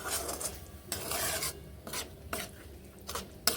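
A spoon scrapes and stirs hot water into cauliflower curry spices in a pot. The strokes are close and rasping and come in repeated bursts, with no talking.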